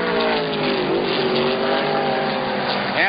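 Race cars roar past at the 1981 IMSA race at Pocono, engines droning steadily with shifting harmonic pitch throughout, and a brief rising whine near the end.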